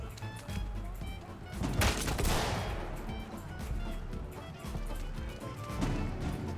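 Gunfire erupts in the Ready Or Not video game, a dense burst of rapid shots and crashes near the start that settles into a sustained clattering din, with game noise continuing throughout.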